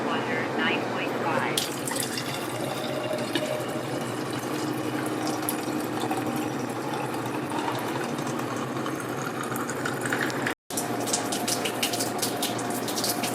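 A Kangen water machine runs water at 9.5 pH after being cleaned and reassembled, giving a steady gushing, filling flow with a faint mechanical hum that continues throughout, broken once by a brief cut.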